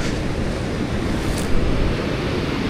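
Waves rolling onto a dry, desert-like beach in Cilacap, Indonesia, with wind buffeting the microphone in a constant loud roar and a brief gust swelling midway, no voices.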